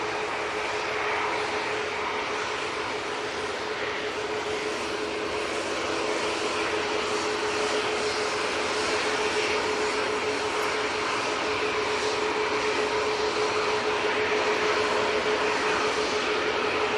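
A Helvetic Embraer E190 jet arrives at Manchester Airport from Zurich, a steady broadband engine roar with a sustained whine, moderately loud and gradually building.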